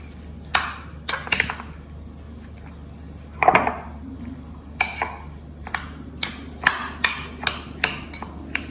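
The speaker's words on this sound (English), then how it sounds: "We have to mix it properly." Spoon or utensil knocking and scraping against a bowl while dressing is mixed, a series of sharp, irregular clinks and taps close by with short gaps between them.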